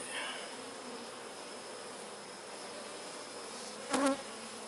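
Honeybees hum steadily at a hive that has had no brood break, a faint, even drone in the open air, with one louder bee buzzing briefly close by near the end.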